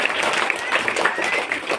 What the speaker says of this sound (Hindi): चलिए हिमांशी के लिए ताली बजाया जाए